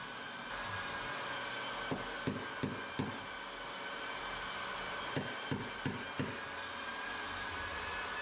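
Hammer blows land in two quick bursts of four sharp knocks each while wooden stair treads are fitted, over a steady background hum with no talking.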